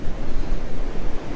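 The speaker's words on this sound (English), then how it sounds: "Those waves are big as well." Big ocean waves breaking on a beach at Woolacombe, a loud continuous roar of surf mixed with buffeting wind noise on the microphone.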